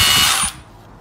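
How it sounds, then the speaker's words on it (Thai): A KRESS KU390 20V 4Ah cordless brushless rotary hammer drill whirs loudly at close range for about half a second, then cuts out, leaving only a faint low hum. "ได้เป็นสว่านแบตเตอรี่พร้อมใช้งาน"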